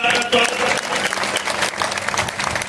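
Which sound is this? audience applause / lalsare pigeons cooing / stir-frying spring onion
audience applause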